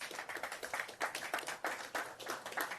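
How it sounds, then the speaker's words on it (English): Audience at an energy-day business event in Nigeria claps in steady broadband applause, a moderate-sized crowd with uneven bursts of hand claps running throughout, no talking over it. "A round of applause for him, please"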